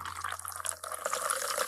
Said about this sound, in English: Then, pour 3 ounces of tonic,